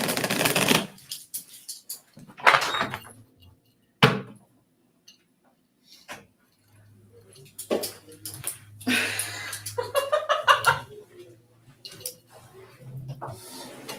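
Someone tries to come in through a door, heard as scattered scraping, rattling and sharp knocks and bangs separated by quiet pauses, with a low hum partway through and a few soft vocal sounds.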